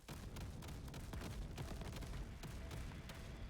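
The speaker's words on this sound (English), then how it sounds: "The grenades." Grenade explosions in the video game Crab Champions boom in a dense, continuous rumbling barrage of overlapping blasts, faint and even throughout, with no voices.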